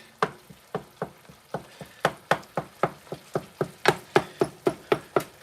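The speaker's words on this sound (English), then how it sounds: "Everyone in this house likes for the meat to be really small when it's browned." Ground meat browning in a hot pan while a utensil chops and breaks it up, giving fast, regular scraping knocks against the pan over a soft sizzle, close and fairly loud, with no talking.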